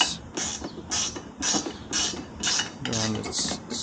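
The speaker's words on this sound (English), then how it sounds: "got my 17 millimeter ratcheting wrench" A 17 mm ratcheting wrench loosens a bolt during a fork swap on a Razor RSF650 electric motorcycle, giving repeated rhythmic metallic clicking strokes with brief pauses between them, up close and fairly loud.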